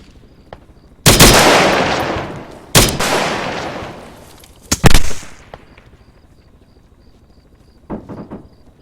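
Loud bursts of automatic gunfire crack out in Arma 3 combat, three long close volleys with brief gaps, then a quieter distant exchange near the end.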